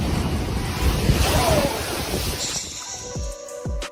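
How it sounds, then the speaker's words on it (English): Ocean surf at Pacifica beach crashes in a steady roar, with heavy wind buffeting the microphone throughout and a few thin tonal sounds near the end. "The beach delivered a weird plot twist today, blasting seafoam everywhere like a wild party."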